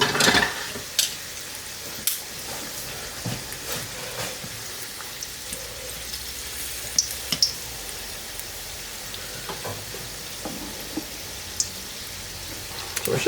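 Chicken frying in hot oil that sits high in a pan, making a steady, moderately loud sizzling hiss with scattered pops and crackles throughout, no talking over it.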